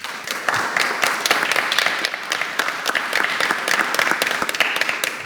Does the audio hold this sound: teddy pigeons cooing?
no